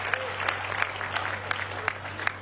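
An audience at a Ganesh festival cultural evening claps in a steady, dense wash of applause with a few sharper individual claps, over a low electrical hum.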